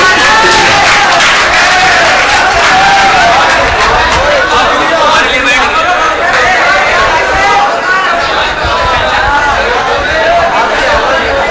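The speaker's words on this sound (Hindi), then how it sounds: "एक बार वाकई जोरदार तालियां बजा दें हमारे मेहमान के लिए" Loud, sustained applause and crowd chatter from an audience at an Indian mushaira poetry gathering, dense continuous clapping filling the hall with murmuring voices mixed in.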